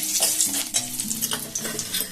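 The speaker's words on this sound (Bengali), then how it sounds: "দেখুন লাল হয়ে বড়িগুলো ভাজা হয়ে গেছে।" Lentil dumplings crackle and sizzle steadily in hot oil, with occasional stirring scrapes, close and fairly loud, with no talking.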